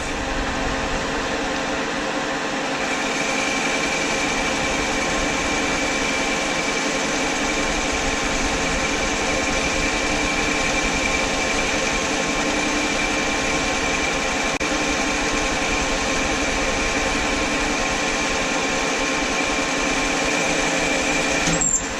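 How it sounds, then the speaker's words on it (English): A metal lathe runs through a turning operation, a steady mechanical whir and hum with faint tonal whine that holds evenly at moderate loudness for the whole stretch, with no talk over it. "This is the lathe."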